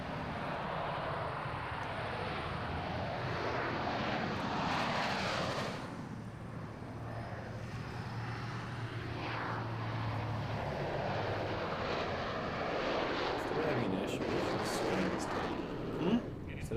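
An F-111 jet aircraft at an air show, heard as a loud, continuous broadband roar that holds steady for the whole stretch, dipping briefly partway through before swelling again.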